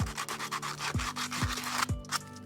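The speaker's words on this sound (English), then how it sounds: "Now just with a bit of sanding paper" Sandpaper rasps back and forth against wooden nest box edges freshly cut with a jigsaw, in quick, rhythmic strokes, close and steady, with faint low thumps underneath.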